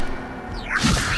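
A Levioso levitation spell cast in the game Hogwarts Legacy, a single short magical whoosh that swells into a bright shimmering burst near the end, close and alone.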